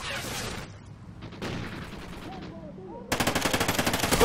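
A Vepr rifle fires in a video game as a rapid burst of loud, evenly spaced automatic shots at close range, following quieter scattered game sounds and faint activity.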